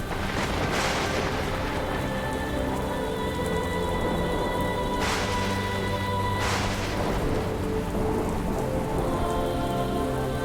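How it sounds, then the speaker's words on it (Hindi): Steady heavy rain pours down throughout, a loud continuous hiss of drops on surfaces, with a couple of brief low rumbles like distant thunder and a musical score underneath. "ऐसी भी वर्षा नहीं हो रही कि लोग आ ना सके"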